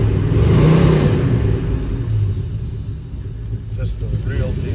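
A 1970 Dodge Challenger with a 440 Six Pack V8 revs with a deep, throaty rumble that swells and settles, close by, while someone talks over it.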